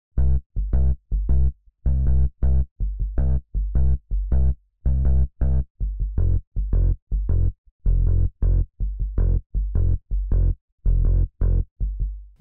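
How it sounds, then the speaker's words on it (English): A UJAM Virtual Bassist Dandy bass line plays alone as a loud, rhythmic run of short, punchy plucked notes with brief gaps between them, repeating a steady funky pattern with no voices. "The bass line that I mentioned that got inspiration to make this track sounds like this."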